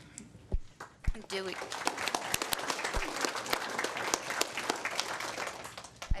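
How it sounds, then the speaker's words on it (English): A crowd at a school board meeting applauds steadily, with dense overlapping claps and a few sharper nearby hand claps standing out. "We're clapping for both of our school board representatives, too."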